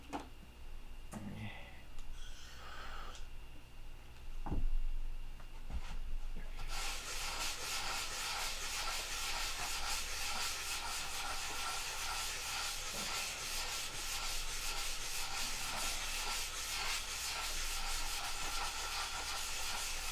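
A few scattered knocks and handling noises give way to long stretches of loud, continuous sanding, a dense rhythmic rasp rubbing back and forth close up with no talk.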